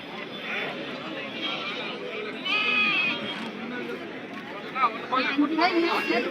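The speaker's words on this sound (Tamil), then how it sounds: "செம்மறி ஆட்டு குட்டிலாம் பார்த்தீங்கன்னா இதுவும் வளர்ப்பு குட்டி." Sheep and lambs bleat repeatedly at a goat market in Konganapuram, Salem, several overlapping calls standing out over a busy background of people chattering nearby.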